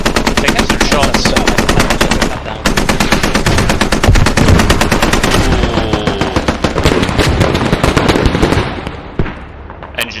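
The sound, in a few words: gunfire in a video game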